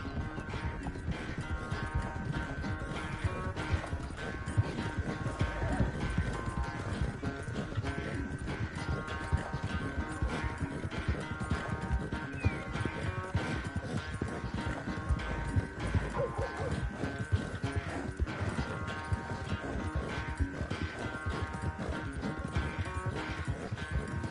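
Rapid, rhythmic hoofbeats of a galloping horse in Red Dead Redemption 2 pound on without pause, with occasional louder thuds, up close and steady.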